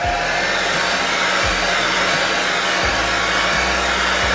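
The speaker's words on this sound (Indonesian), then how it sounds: "Oke, kita hair dryer dulu ya." A hair dryer blows steadily over washed soybeans being dried for homemade tempe, a loud continuous whooshing hum with slight periodic shifts in pitch as it is moved around.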